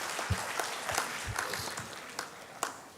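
Audience clapping at an inaugural ceremony, a thin scattered patter of hands with a few louder claps standing out, fairly faint and distant in a reverberant hall.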